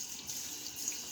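Tap water runs steadily into a sink for rinsing a razor during a wet shave, a continuous close hiss with no talking.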